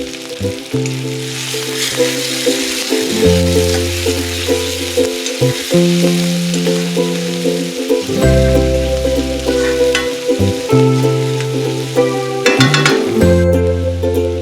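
Curry leaves, crushed garlic and onion sizzle loudly in hot oil in a pan for a Maharashtrian drumstick flower vegetable dish, with steady frying hiss and repeated scraping stirs and clinks of the spoon close by.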